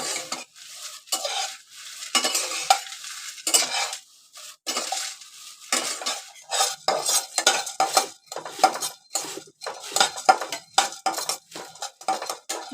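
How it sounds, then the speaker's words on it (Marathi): Garlic dry-roasting in a pan for Malvani masala, with a dense run of quick metal-on-pan stirring scrapes and clinks over a light crackle, close and fairly loud, without any voices. "लसूण भाजून घेते"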